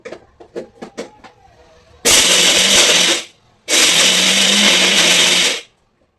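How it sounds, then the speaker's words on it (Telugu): A kitchen mixer grinder grinds raw garlic with spices in two loud, sustained whirring bursts, the second longer, preceded by a few sharp clicks as the jar is set in place. "వెల్లుల్లిపాయలు పచ్చివి వేసి ఇక దీన్ని మిక్సీ పట్టించుకుందాం"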